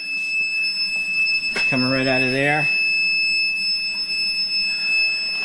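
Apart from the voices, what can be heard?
underground oil tank whistle vent whistling during filling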